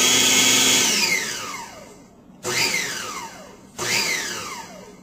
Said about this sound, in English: now I'm just going to pulse this until it comes together